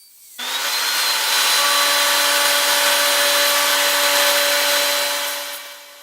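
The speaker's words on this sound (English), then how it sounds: "I can now route it out, or route the mortise out, which will hopefully fit the tenon" A router cuts a mortise into the end cap of a split-top Roubo workbench, a steady loud whine that starts abruptly and holds its pitch for several seconds before fading slightly, with no talk.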